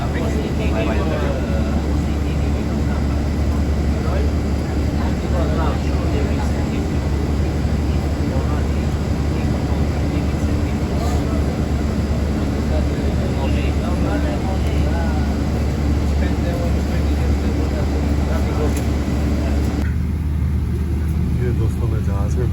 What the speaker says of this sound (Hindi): मैं जहाज़ में बैठ गया हूँ। टर्किश एयर की फ़्लाइट है ये, तराबलस से जाएगी इस्तांबुल।